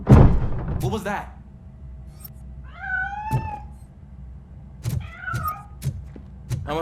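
A cat in the video game RoboCop: Rogue City meows several times, with drawn-out, wavering cries spaced a second or two apart. Dull thumps and other in-game noises surround the meows.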